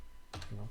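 A few quick keystrokes on a computer keyboard, a close pair of clicks followed by a softer thud, brief and moderately quiet against a faint hum.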